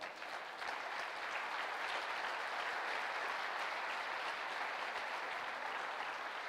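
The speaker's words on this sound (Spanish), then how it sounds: "Dale un aplauso al Señor" Sustained applause from a church congregation at a Sunday service, a dense even wash of clapping that holds steady throughout, heard from some distance.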